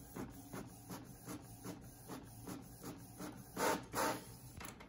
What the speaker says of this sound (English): Looks like we're printing.